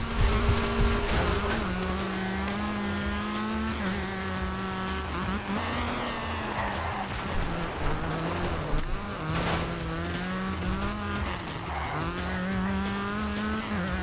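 A Ford RS200 rally car races in the DiRT 2 video game, its raspy engine droning and shifting pitch through repeated revs and gear changes, with tyre squeals and skids breaking in over the steady, close engine note.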